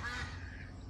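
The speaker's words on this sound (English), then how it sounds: "There goes the flying duck again." A single raspy duck quack, fairly close and loud, trailing off over less than a second.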